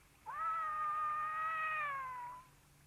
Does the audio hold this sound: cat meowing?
yes